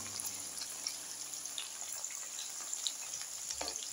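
Raw potatoes frying in a pan, a faint, thin, steady sizzle with a few light clinks and scrapes, heard close but quiet, without speech.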